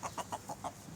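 Chicken clucking in a backyard coop, five quick evenly spaced clucks close by over a faint background hum, no talk.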